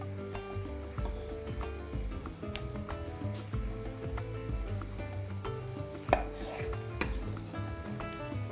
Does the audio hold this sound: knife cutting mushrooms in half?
yes